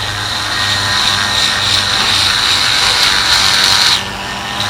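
A rotary tool fitted with a coarse polishing point whines steadily while polishing a pistol feed ramp, a loud, high, continuous buzz that cuts off abruptly near the end.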